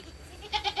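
Goats that are eating give a quick series of three short bleats close by, after a brief quiet lead-in.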